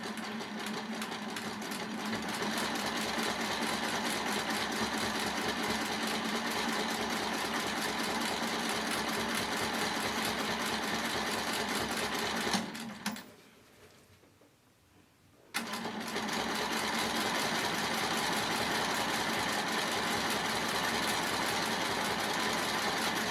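A sewing machine quilting fabric stitches in a fast, steady mechanical rhythm, close and continuous. It stops for about three seconds partway through, then resumes at the same pace.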